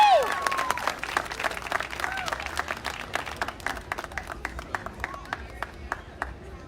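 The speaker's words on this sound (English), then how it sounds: "Big round of applause for Graciela Parson." An audience at a live-streamed contest event applauds; dense clapping at first thins to scattered, distinct claps that fade away.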